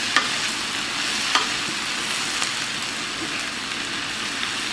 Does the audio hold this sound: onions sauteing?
yes